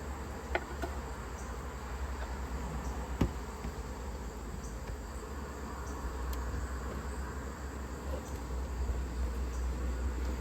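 Honeybees buzz around an open hive during an inspection for small hive beetles. A soft, steady hum of many insects continues throughout, quiet and even, with a few faint clicks.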